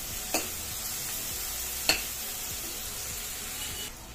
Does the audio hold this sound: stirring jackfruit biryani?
yes